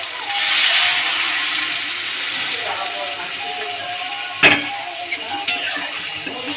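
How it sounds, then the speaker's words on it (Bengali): Water poured into a pan of frying potato, kohlrabi and spice masala gives a loud hissing burst of steam that fades into a softer sizzle, with a couple of sharp clinks later. "এবার আমি পরিমাণ মতন জল দিয়ে দেবো"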